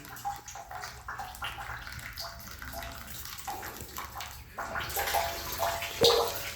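Filtered kitchen grey water runs and splashes steadily from a filter outlet, growing louder and fuller partway through as the flow strengthens, with no voices.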